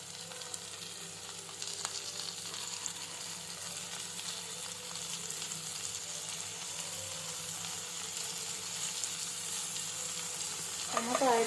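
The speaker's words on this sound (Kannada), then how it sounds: "ಇದೆಲ್ಲ ಚೆನ್ನಾಗಿ ಫ್ರೈ ಆಗಲಿ." Onion and tomato frying and being stirred in a pan while preparing nuggekayi palya, a drumstick curry: steady close sizzle throughout with spatula scrapes, and a louder burst of frying near the end.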